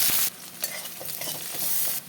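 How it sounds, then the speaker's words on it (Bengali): Black cumin seeds sizzle in hot oil for tempering, a bright close hiss that surges at the start, dips, then swells again with light stirring scrapes. "ফোড়নে দেবো কালো জিরে দিলাম"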